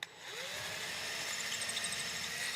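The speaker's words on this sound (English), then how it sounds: "Drill your holes." A power drill with a 5/32 bit runs steadily while boring holes in a wall for a garage door controller mount, a close, continuous whirring whine lasting a few seconds.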